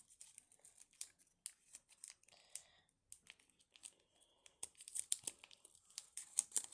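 Quiet, close crinkles and sharp creases as sheets of colored origami paper are folded into a dual-star model. The rustles come in short, irregular bursts with gaps between them.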